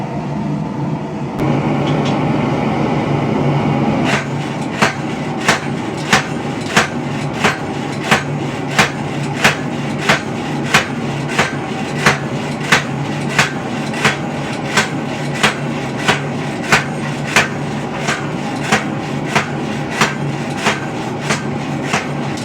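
A homemade treadle hammer pounds hot steel flat on an anvil, striking in a steady run of loud, evenly spaced metallic blows after a brief start, roughly one hit per second with a low background hum.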